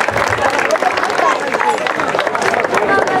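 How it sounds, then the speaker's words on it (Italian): An outdoor crowd at a village festival concert by a band applauds loudly and continuously, the clapping mixed with cheers and crowd chatter close by. "voglio facciateci un altro applauso che non fa mai male"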